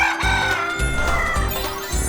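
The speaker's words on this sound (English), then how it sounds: "it's a rooster" A rooster crows in a drawn-out cock-a-doodle-doo, loud and close, set against a steady musical backing.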